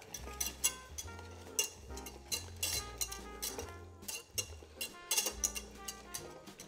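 A utensil stirs Parmesan cheese melting in a pan, producing quiet intermittent scrapes and clinks of metal against the cookware in an uneven rhythm, close but faint, with no voices.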